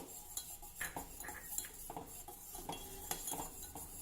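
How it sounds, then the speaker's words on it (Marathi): Premix being added bit by bit to a pot and stirred constantly, quiet clinking and scraping of a utensil against the pot in irregular taps and strokes, faint and without speech. "आता हे प्रीमिक्स आपल्याला थोडं थोडं करत घालायचं आहे आणि ढवळत राहायचं आहे"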